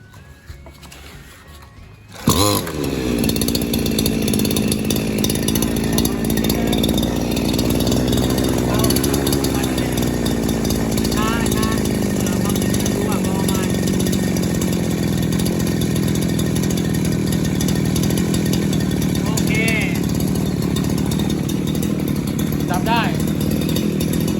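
A lawn mower's small two-stroke engine, mid-repair with its carburetor being adjusted, catches after a brief quiet moment and then runs loud and close, holding a buzzing, slightly rising and falling rev for the rest of the stretch.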